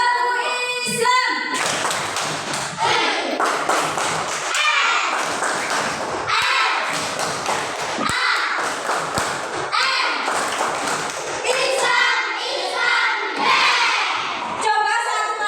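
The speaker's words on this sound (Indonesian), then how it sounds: "Tadi lupa nggak tepuk Islam dulu ya" Children perform the tepuk Islam clapping chant in an Islamic lesson, with loud, rhythmic group clapping in patterned bursts and energetic shouted chanting, led by a voice.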